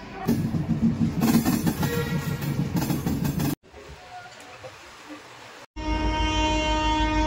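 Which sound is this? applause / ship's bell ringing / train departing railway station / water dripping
train departing railway station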